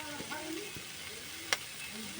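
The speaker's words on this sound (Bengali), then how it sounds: "হালকা লবণ দিয়েও নেড়ে নেব। দেখো কত সুন্দরভাবে ভেজে নিচ্ছে।" Light frying sizzle in a pan as salt is stirred into the food, with soft scraping and one sharp clink of the spatula against the pan near the middle, all close and fairly quiet.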